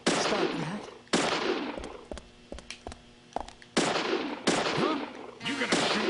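Gunfire in the video game Deadly Premonition, several sharp loud shots and cracks spread across a few seconds with brief quieter gaps and faint sounds between them.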